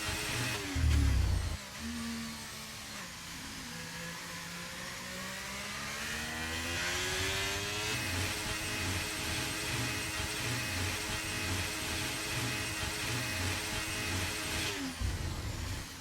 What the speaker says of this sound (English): As he's maxing out the revs in gear 2